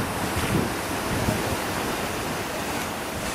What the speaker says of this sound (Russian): волны стучатся в берег